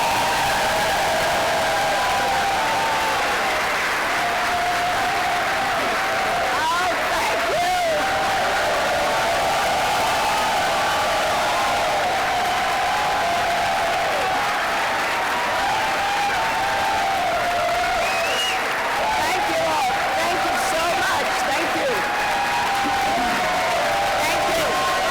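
Sustained audience applause with cheering and whoops fills a large hall as Hillary Clinton is welcomed to the podium at a Human Rights Campaign event, steady and dense throughout.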